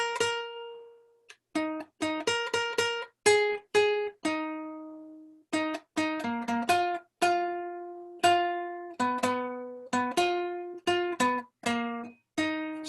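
Jazz solo line over a jazz standard built from thirds and sevenths, a jagged run of separate plucked or struck notes with short gaps, some held longer, played alone and close with no talking.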